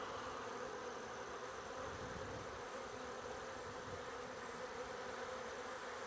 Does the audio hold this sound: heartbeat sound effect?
no